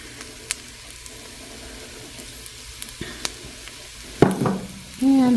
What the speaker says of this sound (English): we're going to go ahead and stir that in